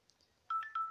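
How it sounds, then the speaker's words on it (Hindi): A mobile phone rings remotely after the find-my-phone ring button is tapped: two short electronic ringtone beeps, clear and fairly near in an otherwise quiet room. "रिंग पे टिपने से आपका फ़ोन रिंगिंग करेगा।"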